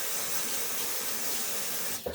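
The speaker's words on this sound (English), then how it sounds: "But I am going to rinse my hand off at least" A kitchen tap runs steadily as a hand is rinsed under it, an even close rush of water lasting about two seconds before a brief splash and cutoff.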